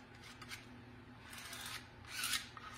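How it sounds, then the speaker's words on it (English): Ink medium pushed through a stencil mesh makes faint, close scraping and rasping strokes, a few soft swipes that build to a louder one near the end. "That is the sound of your ink or your medium going through those stencils."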